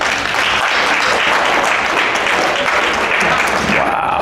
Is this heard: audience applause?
yes